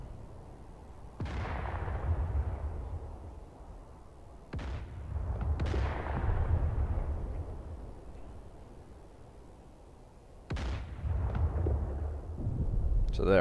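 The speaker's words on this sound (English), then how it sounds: "So they're actually artillery, shooting at the friendly airfield off to the east there." Artillery shelling a friendly airfield in the DCS A-10C flight simulator game, four heavy booms at irregular intervals, each with a long rumbling decay, under a low steady background hum.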